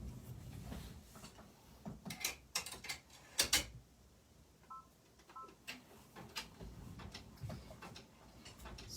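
A home sewing machine stitches snowflake embroidery with quiet mechanical ticking and clicking, and a few sharper taps stand out among the faint, close running sounds.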